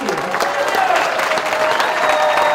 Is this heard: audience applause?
yes